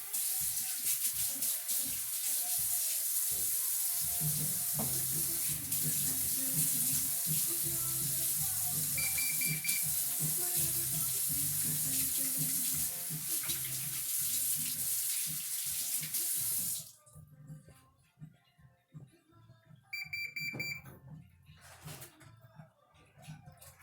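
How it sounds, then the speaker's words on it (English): A kitchen tap runs loudly for hand washing, a steady close hiss of water into the sink that stops abruptly partway, followed by quieter clinks and handling sounds. "Wash my hands."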